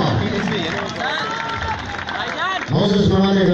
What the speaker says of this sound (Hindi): बेटा क्लैपिंग में कमी नहीं होनी चाहिए, भरपूर तालियां बेटा मेरा साथ दीजिएगा।